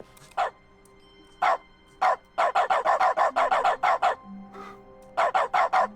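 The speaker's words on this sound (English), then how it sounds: "Just make everything we touch like bark." A dog barking sound effect in The Stanley Parable video game, with repeated sharp barks: a few spaced single barks, then a rapid burst of about ten in a row and a final cluster, loud and dry.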